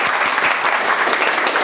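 A classroom audience at a mobile repairing course claps loudly, dense continuous applause that stays close and fills the whole moment.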